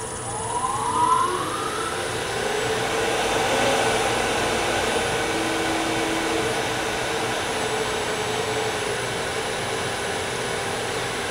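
A wood lathe runs at about 2000 RPM, turning a small piece, giving a steady, loud whirring drone with a brief rising whine near the start, continuous and with no talk.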